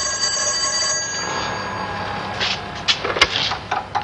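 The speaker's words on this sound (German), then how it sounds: "Nur das Telefon." An old telephone ringing indoors in a 1963 German comedy, its bell tones sounding over quiet room noise, followed by several short clattering knocks near the end.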